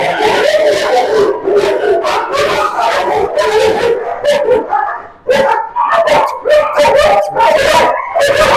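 A black German Shepherd barks loudly and repeatedly at close range, a rapid run of deep barks with yelping, howl-like tones and only a brief pause partway through.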